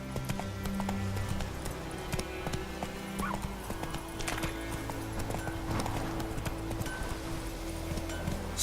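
Roach gallops in The Witcher 3, a continuous flurry of hoofbeats blended with game music and ambience, with a brief whinny heard among the steady drumming.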